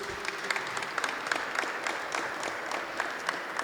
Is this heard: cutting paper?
no